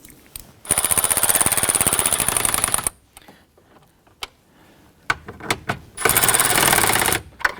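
Power screwdriver tightening instrument cluster screws on a 1993-1997 Ford Ranger dashboard, two loud sustained whirring bursts near the start and end with quieter clicks and taps between them.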